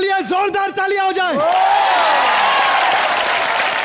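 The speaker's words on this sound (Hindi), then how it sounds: "घायल वंस अगेन के लिए जोरदार तालियां हो जाए।" After a brief raised voice, a studio audience at a comedy show breaks into loud, sustained applause that fills the rest of the moment with dense, even clapping.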